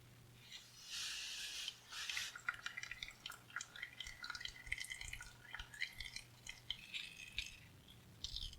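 Fluid drips and trickles as it drains from the pan of an abandoned 1962 AMC Rambler, a faint, close, irregular patter with a few small metallic taps, heard alone.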